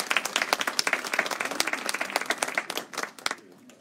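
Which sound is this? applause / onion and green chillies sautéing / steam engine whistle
applause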